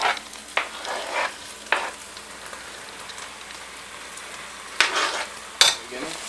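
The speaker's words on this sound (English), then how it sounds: "throw in our pork belly pieces and make sure we turn up the heat and get a nice color on them" Pork belly pieces fry with onions and caraway seeds in a hot pan, giving a steady soft sizzle. Sharper bursts of stirring and scraping break in a few times.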